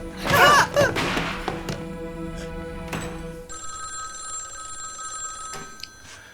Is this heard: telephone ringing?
yes